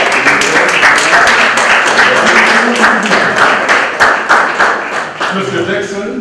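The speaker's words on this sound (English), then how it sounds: "Nice and round of applause." A crowd at a men's health summit at a Boston health center applauds as men's health champions come on stage. The clapping is loud, dense and steady, with a voice speaking over it near the end.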